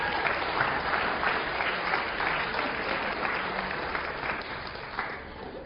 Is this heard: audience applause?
yes